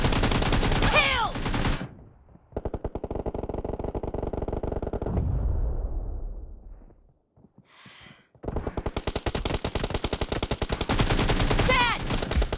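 Gunfire in the mobile shooter PUBG Mobile: loud, dense automatic bursts close up, a pause with a descending tone, then renewed rapid fire, with no talking.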